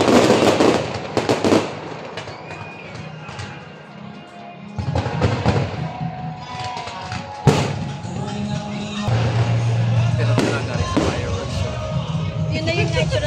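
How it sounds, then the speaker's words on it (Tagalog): Fireworks going off at the MOA Sky Launch pyro-musical show: repeated booming bursts and crackling pops across the whole stretch, loud and fairly close, over a murmuring crowd. "yun na yung fireworks show mo ah"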